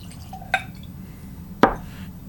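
Weller Antique 107 bourbon is poured into a glass, giving two brief, bright liquid splashes about a second apart, close and clear against a quiet background.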